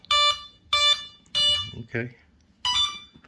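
A battery alarm checker used on 3S and 4S RC batteries beeps four times in loud, evenly spaced, shrill tones, with a person briefly speaking in between.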